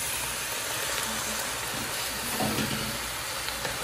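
Salsa for green chicken tamales hitting a hot pan: a steady broadband sizzle and hiss throughout, fairly quiet and even, with slight swells of bubbling near the middle.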